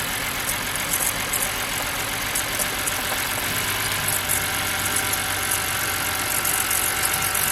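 A 2006 BMW E90 engine idling roughly, a steady close drone with a faint uneven low pulse and a constant hiss, running alone without talk.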